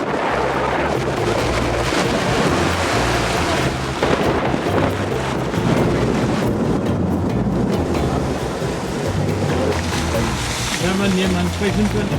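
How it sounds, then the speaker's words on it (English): Roaring wind and heavy rain from a desert thunderstorm gust front in Namibia batter the scene in a continuous, loud rumble, with low thundery noise throughout and no clear pauses. "these enormous gust fronts have just arrived with rain in the damn desert"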